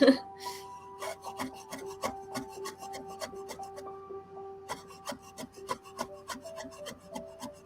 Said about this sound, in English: Big knife is pretty good for scraping the things up off of the cutting board.